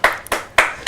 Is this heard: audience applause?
yes